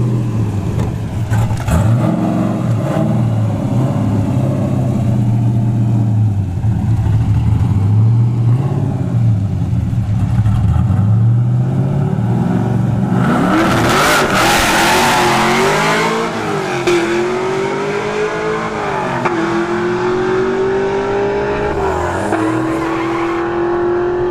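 Drag racing cars, including a nitrous-equipped fourth-generation Camaro, launch and accelerate down the strip at a motorsports park, a loud sustained engine roar rising in pitch through gear changes, with a sharp burst midway, close and dominant.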